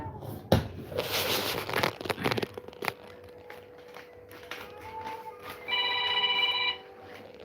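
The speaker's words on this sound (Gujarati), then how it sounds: "જો આવી રીતે ફોન ચાલુ જ હોય છે" A phone rings close by for about a second with a bright electronic trill, after rustling, crinkling handling noise and a few soft knocks in a quiet room.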